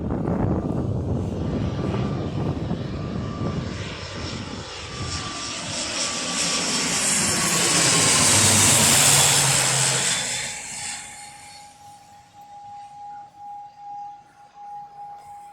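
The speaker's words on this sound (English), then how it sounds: "the plane I noticed is another Loganair, but it's an ATR 72." Loganair ATR 72 turboprop passing overhead, a loud droning propeller roar with a steady tonal whine that swells to a peak then fades away into the distance, no voices.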